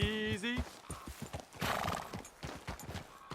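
Horses in the Red Dead Redemption 2 video game, a loud whinny up front followed by steady clip-clop of hooves on a trail, with faint talk beneath.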